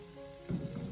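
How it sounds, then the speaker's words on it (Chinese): Cauliflower stir-fried with green and red chilies over high heat makes a short, soft sizzle that swells as the food is tossed in the wok, with no talking. "这时候再立刻调为大火，将它快速的进行翻炒"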